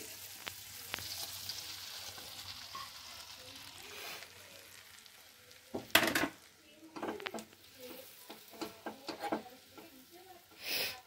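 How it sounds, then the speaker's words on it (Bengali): Cut bread frying in white oil in a pan, a soft steady sizzle with scattered clinks and scrapes of utensils against the pan, louder stirring bursts near the middle and end. "হাফ চামচ মতন সাদা তেল দিয়ে দিলাম। এবারে কেটে রাখা ব্রেডটা দিয়ে দিচ্ছি।"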